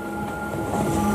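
A train carriage runs along rails, giving a steady, close rumble and a faint high squeal from the wheels, with no voices.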